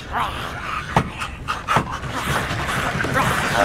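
A zombie breathes in rapid, noisy, panting gasps in the dark inside a train wagon, a steady rasping stream with a few sharper breaths standing out, close and fairly loud.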